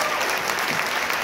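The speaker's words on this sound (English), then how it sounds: "Let's give a final round of applause." A film festival audience gives a final round of applause after a Q&A, a steady wash of many hands clapping together without a break.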